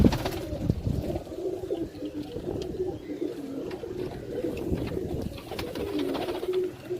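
Pigeons cooing steadily close by, overlapping low throaty coos with a faint rustle in the background.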